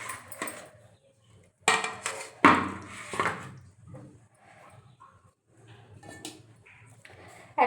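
Knife cutting paneer on a board at home while making a hotel-style paneer fry, giving a few distinct clacks and taps spaced out between quieter pauses, close and moderately loud.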